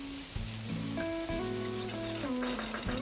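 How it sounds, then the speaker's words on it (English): Three chopped medium onions frying in hot oil in a pan for Indian lamb curry, giving a soft, steady sizzle beneath louder background music throughout. "add 3 medium chopped onion and fry it until the onion is nice and soft"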